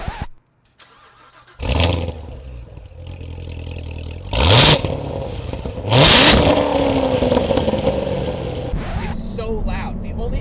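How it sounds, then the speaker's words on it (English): A loud supercharged V8 engine of a 2015 Chevrolet Corvette Z06 fires up and revs hard several times through four exhaust pipes, sharp throttle blips over a rumbling idle, close by and powerful. "The noise this thing produces out of its 4 exhaust pipes out the back is exhilarating"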